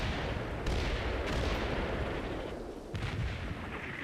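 Gunfire in the video game Combat Mission: Cold War: a dense, continuous barrage of overlapping shots and booms, loud and sustained with brief sharper bursts and no voices.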